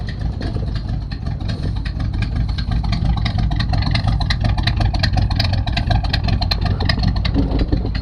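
A hearse engine idles low and rough, with leaking valve cover gaskets, its steady low rumble running loud and unbroken with no talk over it.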